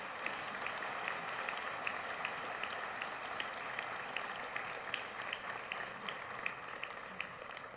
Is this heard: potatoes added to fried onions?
no